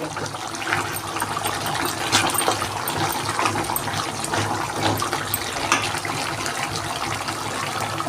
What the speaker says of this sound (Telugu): కొద్దిగా వాటర్ వేసేద్దామండి.